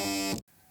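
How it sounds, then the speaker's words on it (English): A mobile phone buzzes in a short, loud, harsh electronic tone that cuts off abruptly, followed by quiet room hum. "Oh, that's my phone."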